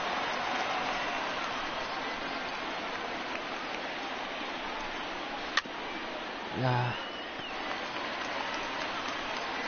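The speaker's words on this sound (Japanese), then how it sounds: "いやーで、クソ雨。" A steady, dense hiss of rain pours down throughout a softball game, with a sharp knock partway through and a short voiced sound over the rain.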